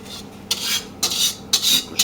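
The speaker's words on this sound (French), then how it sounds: "Mélangez les deux préparations." A spoon or whisk stirs melted chocolate and butter into beaten eggs and sugar in a bowl, making four quick rasping scrapes in a steady rhythm, close and fairly loud, with no talking.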